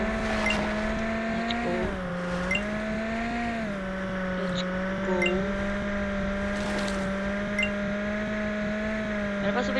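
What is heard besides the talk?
cars racing in the video game Driving World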